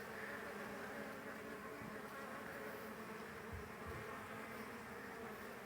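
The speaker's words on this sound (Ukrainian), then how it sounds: "Вон трутень." Soft, continuous buzzing of a drone honeybee hums throughout, a low drone close by with faint background rumble.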